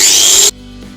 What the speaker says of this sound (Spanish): con el esmeril voy a hacer los cortes